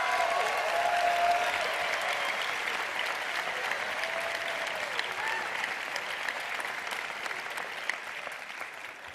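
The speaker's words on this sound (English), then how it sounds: "So give yourselves a round of applause" Graduates and audience at a university arts commencement ceremony break into steady, sustained applause that fills the hall evenly and slowly tapers, a distant crowd of many hands clapping with a faint voice briefly underneath.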